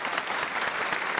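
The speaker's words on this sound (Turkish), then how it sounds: "Burada alkış gelecek." Steady, dense clapping from an audience at a live music performance, sustained and even throughout with no voices on top.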